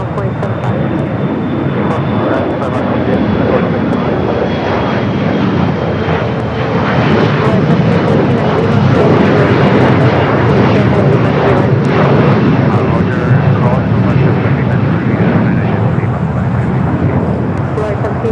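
At LAX, an airliner crosses runway 25 right, its engines giving a sustained, fairly loud jet rumble that swells midway, with talk heard throughout.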